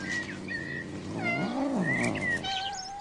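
Domestic cat meowing in a nature setting, a few drawn-out rising and falling cries with one long wavering yowl in the middle, close and clear over a steady hum of insects or birds.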